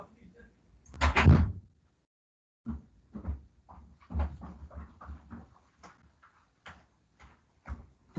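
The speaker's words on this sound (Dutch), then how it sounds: "Oh, ik moet heel eventjes een deur open doen." A door is opened nearby, with a loud handling thump and rattle, followed by scattered soft clicks, shuffles and footsteps; a dog is briefly audible among the movement.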